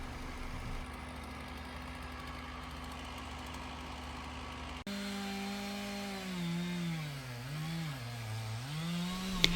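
A chainsaw taking a tree trunk down toward ground level, first idling with a steady drone, then revving as the engine pitch rises and dips with the cut, loud and sustained throughout.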